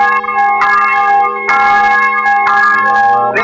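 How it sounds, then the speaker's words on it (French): Church bells ring out for Easter, loud and sustained, with fresh strikes landing about once a second over a dense humming resonance of overlapping tones. "vous entendez les cloches de Pâques?"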